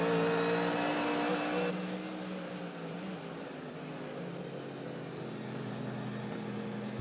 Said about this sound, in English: So I want to hear the car when he's not there.